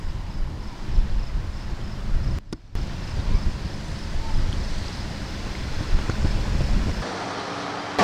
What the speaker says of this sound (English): That's the ocean. It's a bay.